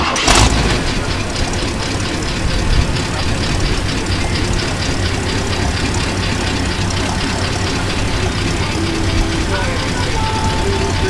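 A 1947 Ford pickup truck engine idles steadily with a low, even rumble and subdued, quiet exhaust note, a brief louder burst at the start, otherwise constant.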